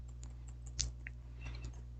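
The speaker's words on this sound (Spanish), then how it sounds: "aquí podemos empezar a escribir y se irá mostrando en las pantallas que tengamos activadas" Computer keyboard typing: a few faint, scattered key clicks at an irregular pace over a steady low electrical hum, quiet and close, with no talking.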